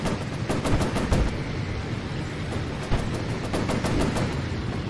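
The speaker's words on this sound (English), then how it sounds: "But its machine guns are badass." Rapid, continuous machine-gun fire from a P-51 Mustang fighter plane in the video game Warplanes: Battles Over Pacific, in loud sustained bursts, a dense rattling stream of shots with a heavy low rumble underneath.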